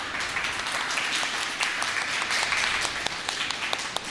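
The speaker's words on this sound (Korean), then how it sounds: "수고해주신 노터블릿 팀한테 다시 한번 박수 한 번 부탁드리겠습니다" An audience at a Korean speedrun marathon event applauds continuously for several seconds, a dense, even wash of many hands clapping at moderate distance.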